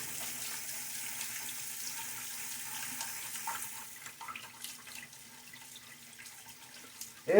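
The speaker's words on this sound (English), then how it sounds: "Probably means I need to rinse it for a little bit longer." Tap water runs steadily into a sink while a lathered shaving brush is rinsed clean. The hiss is continuous and close, eases slightly toward the end, and closes with a sharper splash or knock.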